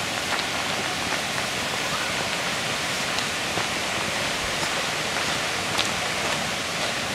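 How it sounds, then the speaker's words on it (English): A coastal waterfall sends a broad, steady rush of falling water down toward the ocean, loud and continuous like heavy rain, with no voices over the roar. "So this is all coming from the waterfall, feeding out and going right down and feeding into the ocean."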